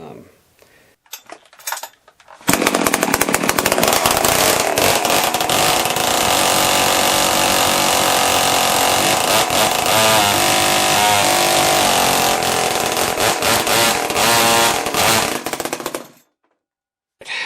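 A Husqvarna 365 Special chainsaw with a 52mm build runs with its clutch not fully assembled, a loud, harsh, rattling engine roar held steady for about fourteen seconds before cutting off abruptly; no voices.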